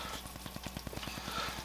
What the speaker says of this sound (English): now that my white wine is boiling